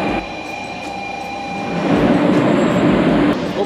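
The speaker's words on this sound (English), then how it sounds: "just like that, the train has arrived" A Shinkansen bullet train pulls into a station in Hiroshima, Japan, a loud rising rumble and rushing whoosh with a thin high whine, growing stronger as it arrives close by.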